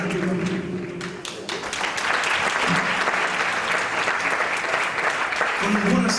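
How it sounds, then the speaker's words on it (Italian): An audience applauds a tribute band at an outdoor evening concert in Spilimbergo, with sustained, dense clapping from a sizeable crowd and a voice faintly over it near the start and end. "Con buonasera, un applauso così, sembra di essere all'Ariston."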